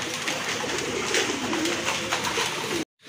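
Several large domestic pigeons coo softly and repeatedly over a steady background hiss, close by, before the sound cuts to sudden silence near the end.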